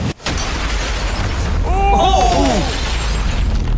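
A car blows up in a loud, roaring blast that carries on as a sustained rumble, with rising and falling whistling tones and voices over it.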